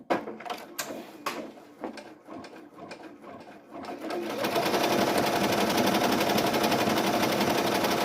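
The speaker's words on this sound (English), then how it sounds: "the machine is ready to start embroidering" Brother SE 1900 embroidery machine stitching a design onto a beanie in a magnetic hoop: a few sparse clicks and taps at first, then a fast, steady mechanical rattle of needle strokes that runs continuously and fairly close.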